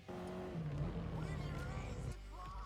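Race car in GT Sport on the WeatherTech Raceway track braking hard and downshifting to third gear, the engine note dropping in steps with a constant droning whine, loud and close, with a voice talking over part of it.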